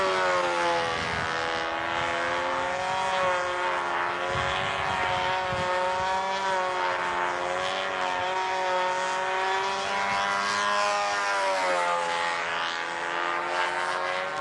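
A propeller airplane flies an outside square eight, its engine drone steady and prominent, rising and falling in pitch as it climbs and dives, heard alone.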